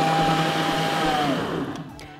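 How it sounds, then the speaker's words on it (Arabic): An electric blender roars loudly and continuously up close, its motor whine holding steady before easing slightly toward the end. "انا دلوقتي هشغل الخلاط"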